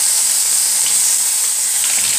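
Chicken liver hits hot ghee or oil in a pan, a loud, steady close-up sizzle and hiss with no talking.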